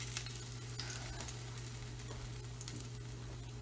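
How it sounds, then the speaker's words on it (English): Minced garlic fries in hot oil in a pan, a steady soft sizzle with a low constant hum underneath and faint occasional crackles, no voices. "Oil's all ready, so we're going to put the minced garlic in, start to get that getting brown."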